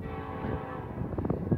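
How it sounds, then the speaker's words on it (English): A short burst of deep rumbling and rattling rail noise from a coal train passing in the dark, with a sustained horn-like tone underneath, moderately loud. "they're routing a train around it right now"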